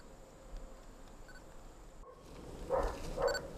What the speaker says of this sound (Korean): 작년에 비해 올해 갑자기 증가했다는 외래종 말벌.